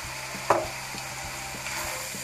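Onion and leek sweating in a pot with bacon for minestrone soup, a soft steady sizzle with a brief stirring clink partway through.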